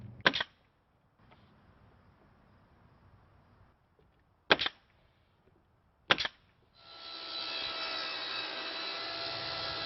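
Saw ripping a siding board down to a 4-inch exposure for the last course on a shed, a sharp knock or two before the steady cutting starts and runs to the end, moderately loud and alone.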